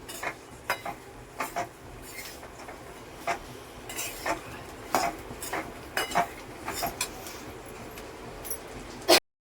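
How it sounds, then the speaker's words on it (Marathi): Kolhapuri peanut red chutney being stirred in a pan, a run of close, uneven scraping knocks of a spoon against metal over a soft background hiss, ending with one sharp clank, no speech. "परत एकदा आपल्याला हे हलवून घ्यायचं आहे"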